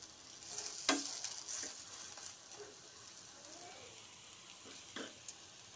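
Iftar snacks sizzle quietly in a frying pan while a spoon turns them over, with faint scrapes and a few sharper clinks against the pan.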